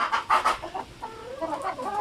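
Egg-laying chickens confined in their pen give a few close, moderately loud clucks in short bursts, alone without any voices.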